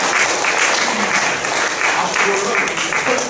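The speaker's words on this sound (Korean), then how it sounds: "뜨겁게 격려의 박수로" A church congregation gives a warm round of applause during a Wednesday worship service, the clapping dense and steady throughout at close range.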